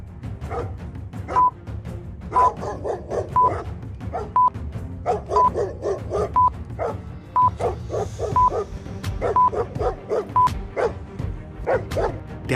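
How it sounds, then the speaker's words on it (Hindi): Several wild dogs in a cartoon chase, heard as repeated barks and yips in a steady, busy pattern with short high tonal beeps scattered through, loud and close with no talking. "ब्रेवो के पीछे बहुत सारी जंगली कुत्ते लगे हुए थे।"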